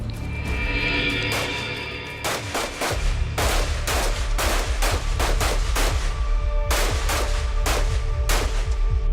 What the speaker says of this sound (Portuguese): O treinamento noturno com tiro traçante